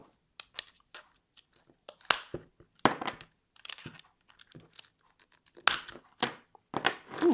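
SeaBell MAX Pro mosaic cutting tool snipping pieces off mosaic tile: a series of irregular close crunching snaps and cracks with brief crumbly scrapes, spaced apart by quiet pauses.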